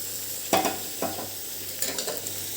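A spoon stirs chopped tomatoes, four medium ones, into onion and garlic frying in a pan, giving three or four quick scraping, squelching strokes over a soft sizzle.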